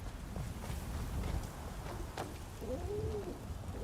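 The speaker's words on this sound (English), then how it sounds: "Shut up, pigeons." Pigeons cooing in the house eaves, a soft low coo heard near the end over a steady background hiss, with faint scattered knocks earlier.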